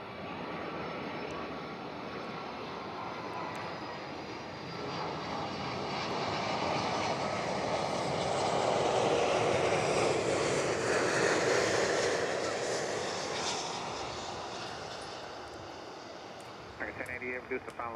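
An aircraft at Miami airport rumbles by with a broad roar that swells to a peak midway and then fades, heard from a distance and partly under talk.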